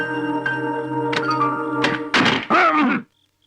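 A sharp, heavy thunk like a door slamming shut, with a brief rattling after, cutting through a steady tonal hum before everything goes quiet.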